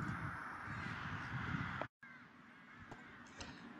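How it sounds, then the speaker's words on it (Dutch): A rook gives raw, hollow, harsh cawing calls, faint and mixed into a steady wash of outdoor background noise with a brief dropout midway. "De roek heeft een wat rauwere, hollere, krassende roep dan de zwarte kraai."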